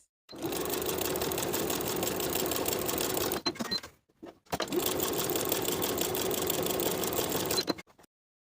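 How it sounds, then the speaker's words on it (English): Sewing machine topstitching the folded top edge of a jeans pocket, two long steady runs up close with a short gap between them and faint handling noise in the pause. "I'm going to stitch the top folded edge in place"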